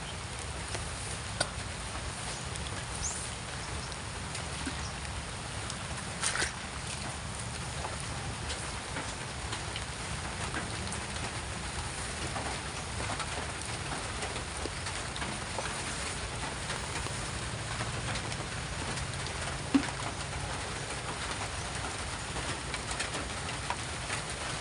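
Steady rain falling on a roofless, exposed spot, a soft continuous patter under faint occasional bird calls, even and moderately quiet throughout with a few brief louder ticks.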